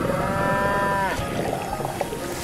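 A single cow gives a long, loud moo near a river, then the sound drops into background noise.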